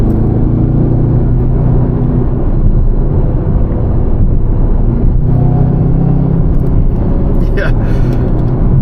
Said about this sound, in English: you can definitely get this thing to spin the tires though